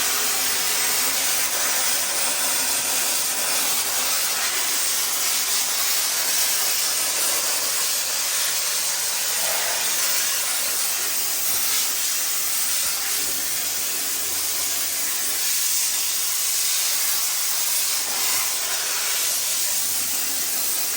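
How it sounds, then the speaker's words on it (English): A loud, continuous hiss of steam blasting from a 240-volt steam cleaner without a break for about twenty seconds, close and harsh, with no talking. "We're just gonna use steam and blast this stuff out of here."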